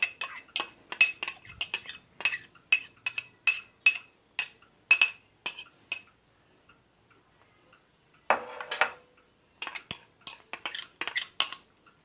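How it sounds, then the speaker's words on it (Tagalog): Dinakdakan ingredients and onion mixed in a bowl, a rapid series of sharp clinks and taps of a utensil against the bowl, a brief pause with a short scraping rustle, then more clinking, close and clear. "Ang gagawain is, imimix natin yung mga ingredients."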